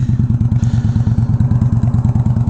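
An Indian Scout motorcycle with upgraded forks rides along, its engine giving a loud, close, steady pulsing thump in rapid even beats, with no talking.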